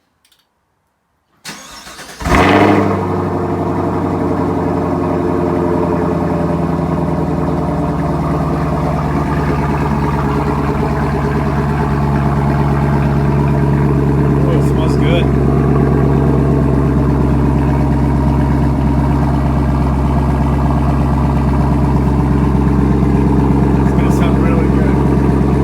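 A 2018 Camaro fitted with a Borla Atak axle-back exhaust and carbon fiber tips fires up for the first time at night: a sharp cranking catch, then a loud, steady, deep idle rumble that holds close and unbroken.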